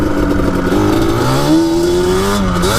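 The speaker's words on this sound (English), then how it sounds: "I don't think I've ever ridden a quad that was this fast before" A Yamaha Banshee quad's two-stroke engine revs hard, the pitch climbing steadily through the gears in a close, loud, buzzing wail over nearly three seconds.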